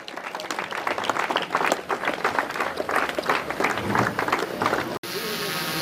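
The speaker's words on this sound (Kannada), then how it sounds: "ಎಲ್ಲರೂ ಜೋರಾದ ಚಪ್ಪಾಳೆ ಮೂಲಕ ಸರ್ನ ವೇದಿಕೆಗೆ ಅಲಂಕರಿಸಬೇಕಾಗಿ ಅವ್ರನ್ನ ಕೇಳ್ಕೊಳ್ತಾ ಇದ್ದೇನೆ" An audience at a college sports event in Sindhanur claps loudly and steadily to welcome a guest onto the stage, then the sound cuts off abruptly.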